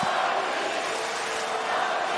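A large tennis crowd at the US Open, during Medvedev versus Bonzi in the first round, makes a steady, dense roar of cheering and murmur that fills the arena throughout without breaks.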